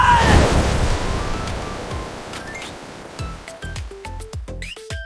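Baking soda and vinegar erupting sets off a loud, broad fizzing rush that gradually fades. Several short, bright tonal blips follow near the end.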